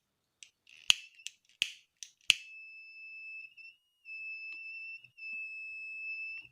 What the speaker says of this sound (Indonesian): Ketika saya dekatkan dengan api, suara buzzer semakin keras.